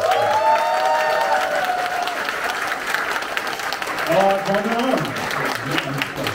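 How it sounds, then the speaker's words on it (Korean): A crowd at a party meeting in Incheon applauds to welcome a party leadership candidate, with loud, sustained clapping throughout and a voice speaking over it at moments. "이준석 후보를 큰 박수로 환영해 주시기 바랍니다."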